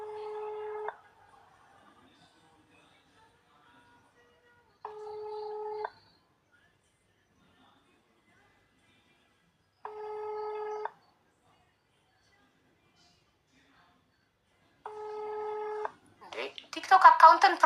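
A telephone call to a restaurant number goes unanswered: four evenly spaced ringback tones sound about five seconds apart, with near silence between them, and a burst of other sound follows at the end.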